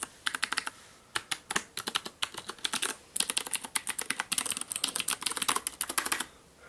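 Rapid clicky typing on a Das Keyboard Professional Model S mechanical keyboard with Cherry MX Blue switches, crisp keystrokes in bursts with brief pauses, close and fairly loud.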